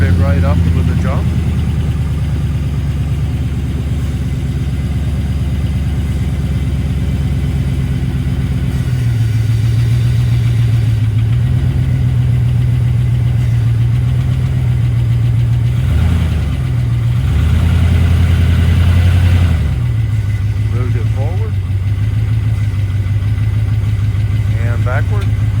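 A 2004 Chevrolet Tahoe at a police auction idling just after a jump start, a steady close engine drone whose pitch shifts a few times, with people talking over it.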